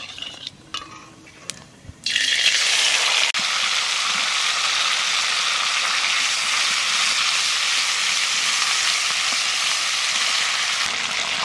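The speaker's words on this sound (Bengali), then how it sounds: "মশলাটা একটু কষে নিচ্ছি" A paste of cumin, green chili and ginger hits hot oil and sizzles loudly after a few quiet clinks, then settles into a steady, continuous frying hiss close by with no voices.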